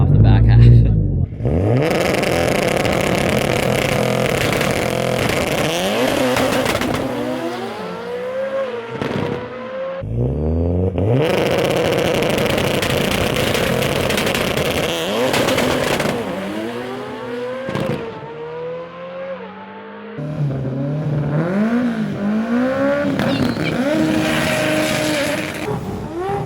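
Audi RS3 and other drag cars launching hard down a Las Vegas strip, loud engines revving and rising through gears in repeated near bursts, with crowd chatter and voices mixed underneath.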